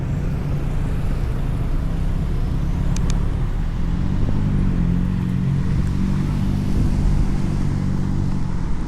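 Busy evening rush-hour traffic at a red light on a Vientiane road, a loud, steady roar of car and motorbike engines idling and revving nearby, with a constant low rumble and no pause.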